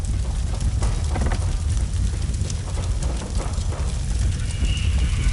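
Horse hooves clip-clopping steadily in the Sherlock Holmes video game, a dense low clatter of hoofbeats over a constant background wash.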